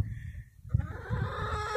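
Chickens cluck nearby, one hen's call rising into a drawn-out squawk, with soft rustling in the background.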